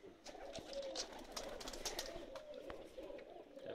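Pakistani flying pigeons cooing softly outdoors with a few scattered chirps and light fluttery sounds, moderately distant, with a faint ambient hum underneath.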